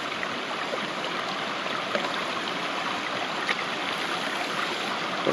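A gold cradle rocked back and forth with sandy water and black sand concentrates gives a steady, close rush of sloshing water that runs unbroken with no talk.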